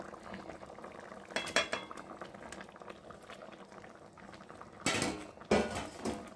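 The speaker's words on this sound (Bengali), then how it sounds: "চলো খুন্তি দিয়ে একটু নেড়ে দিই।" Fish curry with brinjal and potato bubbles gently in a pot while a metal spatula scrapes and clinks against the pan in a few short bursts, the steady simmer quiet underneath.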